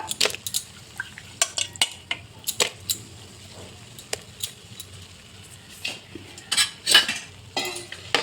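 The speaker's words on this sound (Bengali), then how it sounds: "লাউটা কেটে রেখেছিলাম বন্ধুরা, এইভাবে কেটে রেখেছি ডুমু ডুমু করে, লাউটাও দিয়ে দিলাম।" Diced bottle gourd tipped into a pot of cooking lentils with turmeric, followed by irregular metallic clinks, scrapes and knocks of a spoon stirring against the pot, close and moderately loud, with no talking.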